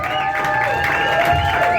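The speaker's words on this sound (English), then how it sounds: "Clap it up for Ophelia Summers" Small club audience at the Elbow Room applauding and cheering for performer Ophelia Summers, a dense patter of clapping with scattered whoops over a sustained tone.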